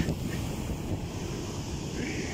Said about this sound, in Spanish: Por poco y nos alcanza la ola.